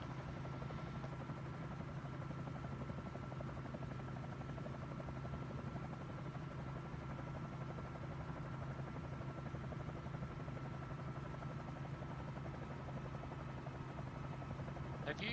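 A helicopter flies steadily on a bush safari, its engine and rotor giving a constant heavy drone and rhythmic thrum from inside the cabin, with faint voices beneath.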